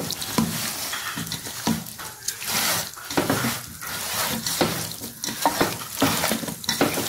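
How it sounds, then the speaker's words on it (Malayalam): Chicken pieces are mixed into a wet marinade in a bowl for a chilli tomato chicken dish, with continuous squelching, slopping and rubbing sounds in uneven bursts, close and fairly loud. "ചിക്കൻ പീസസ് ഇതിലോട്ട് ചേർത്ത് കൊടുക്കാം. എന്നിട്ട് നന്നായിട്ടൊന്ന് മിക്സ് ചെയ്ത്"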